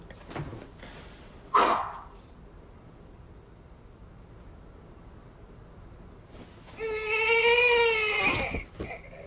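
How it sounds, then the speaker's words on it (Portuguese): An infant's wailing cry rises loud near the end, with a brief squeal earlier and a faint hiss filling the gaps. "Neném chorando"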